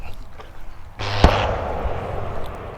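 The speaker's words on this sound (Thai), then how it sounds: "ทุกคนได้ยินเสียงอะไรไหมอย่างกับไฟช็อต มอแปลงระเบิดละมั้ง" A sudden sharp electrical crack and burst, like a transformer blowing, near a flower park in Khao Yai, followed by a sustained loud buzzing hiss that lingers and slowly fades.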